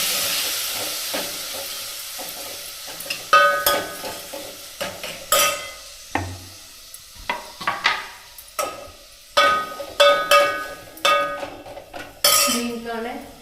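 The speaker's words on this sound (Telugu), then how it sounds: "బాగా ఫ్రై అయిపోయాక ఆనియన్స్, టమోటాస్ అన్నీ వేసేసుకుంటాం." Dried fish curry ingredients, mustard seeds and curry leaves, frying in a pan: a background hiss of frying broken by irregular metal clanks and scrapes of a spoon stirring against the pan, close and clear, with no talking.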